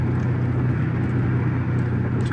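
An LS-swapped Chevrolet Caprice cruises at about 50 mph in gear, with a loud, steady low engine drone and road rumble heard from inside the car, continuous and even, with no talk.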